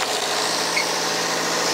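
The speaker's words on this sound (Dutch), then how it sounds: "Waarschijnlijk horen jullie de motor van de boot flink." Low, steady engine drone of a yacht's motor running, a constant mechanical hum with faint vibration and no voices.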